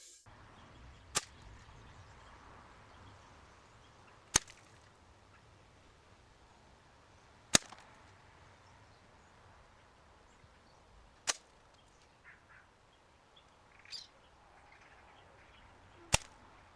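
Gamo Coyote Tactical air rifle firing BSA Gold Star pellets: six sharp, isolated cracks spaced a few seconds apart over quiet outdoor background with faint birdsong.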